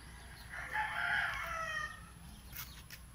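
A rooster crows once, a long strained call rising and falling at moderate distance over a steady outdoor background hum.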